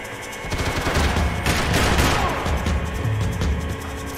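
Gunfire in the Max Payne 3 video game during a shootout, dense overlapping bursts of shots and booming reports forming a loud continuous barrage with no pauses.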